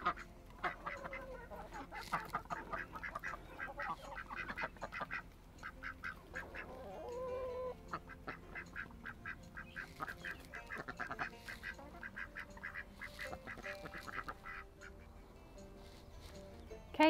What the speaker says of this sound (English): I think the ducks are mad. I think they want me to let them out.